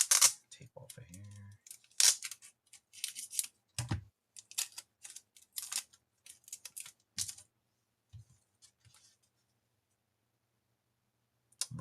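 Tape peeled off a J. Scott Campbell variant comic book: a series of short, crackly ripping and crinkling bursts, fairly close, with pauses between them and quieter handling noise toward the end.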